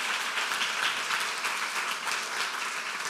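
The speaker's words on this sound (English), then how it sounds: "There's applause." Audience applause at the closing of a conference, a dense, even wash of many hands clapping at moderate level, sustained without a break and no voices over it.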